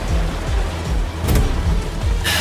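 Water floods a mine tunnel in a video game as a dense, steady roar of rushing water fills the space, loud and close, with a sudden hissing surge near the end.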